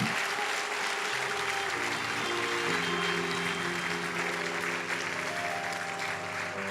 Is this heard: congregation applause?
yes